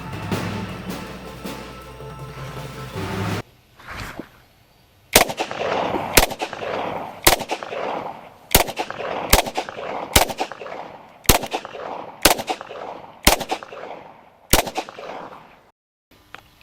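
An MK23 SOCOM pistol is fired on a range in a string of about ten loud, sharp single shots at a steady pace, each followed by a short echo, after a brief stretch of other sound at the start.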